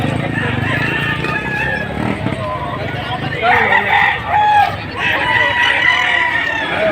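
Roosters crowing at a market selling quality gamefowl in Padre Garcia, Batangas, with several loud, drawn-out crows overlapping one another, clucking hens and a busy outdoor crowd murmuring underneath.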